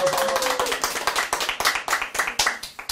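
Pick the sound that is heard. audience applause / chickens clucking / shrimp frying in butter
audience applause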